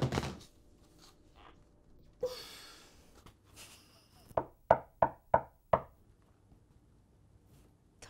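Five crisp, evenly spaced knocks on a door land close and clear after a brief rustle and breath, in a vampire comedy drama scene.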